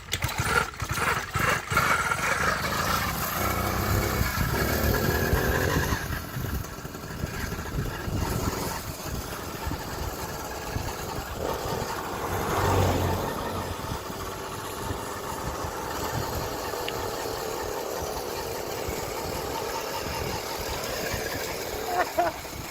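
Homemade motorized bicycle with a small cheap engine sputtering to life and running, an uneven rattling putter with revving surges, heard up close with a voice speaking over parts of it.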